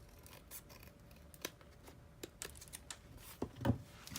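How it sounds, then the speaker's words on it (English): Scissors trim the edge of a paper snowman card in a few quiet, separate snips and rustles, close by and alone, with a couple of sharper cuts near the end. "I'm going to trim the edge off here"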